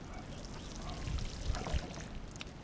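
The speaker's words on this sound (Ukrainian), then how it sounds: "поліваємо водою" Water pours and splashes quietly onto soil around strawberry seedlings planted in cups, in a short, uneven stream, with a few soft thuds.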